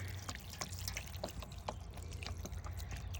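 Water is poured outdoors to rinse coffee-stained eco printed fabric, giving a continuous splashing trickle with scattered drips and a low steady background hum.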